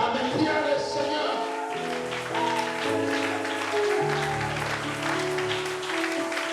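Church congregation clapping to praise the Lord, dense continuous applause filling the room, with music playing underneath.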